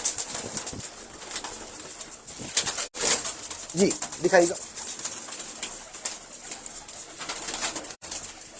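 Pigeons kept for sale coo softly and continuously nearby, with a brief flutter of wings partway through, while someone speaks a few words over them.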